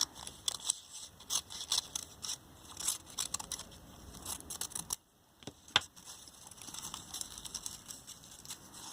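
Scissors snip slits into a paper plate during a craft project, giving a run of close, crisp cutting crunches in irregular bursts with a brief pause midway.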